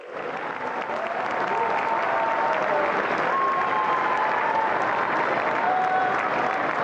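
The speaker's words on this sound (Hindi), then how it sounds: "आपकी तालियां रुकनी नहीं चाहिए" A large audience at an event in Bharat Mandapam applauds loudly and continuously, dense clapping swelling in over the first second and holding steady throughout with no voices breaking through.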